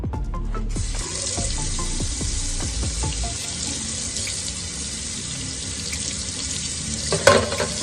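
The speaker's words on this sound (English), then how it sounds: "I may have to run this under some cold water." Steady rush of cold tap water running over a freshly cut glass bottle ring close up, a continuous hiss with a faint knock of glass near the end.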